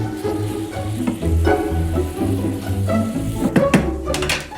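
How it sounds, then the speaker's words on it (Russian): Mushrooms and onions fry uncovered in a pan for a potato casserole, a steady sizzle with occasional stirring scrapes and a couple of clatters near the end. "начинаем то и дело помешивать и готовим без крышки, чтобы влага испарилась и грибочки с луком слегка прижарились."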